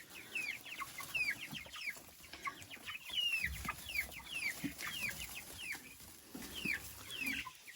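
Young turkey poults and broiler chicks in a farmyard, peeping steadily in a chorus of high chirps with soft low rustling beneath.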